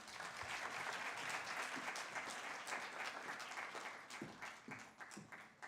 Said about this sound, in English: Carlton deserves a better round of applause.